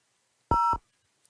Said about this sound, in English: So we are going to dial from the soft phone